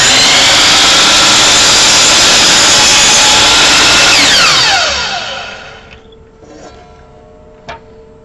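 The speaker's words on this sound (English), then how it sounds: "I pull out the saw, I turn it on, I'm going to plunge it down, and I'm going to push it forward" A power saw roars loudly at full speed as it is plunged down and pushed through a board, then winds down and falls quiet, followed by a few faint knocks.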